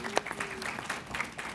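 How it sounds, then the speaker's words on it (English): Short, soft applause from a small audience at a city technology and entrepreneurship event in Washington, D.C., with scattered claps over a murmur of voices for just over a second. "That deserves applause, by the way"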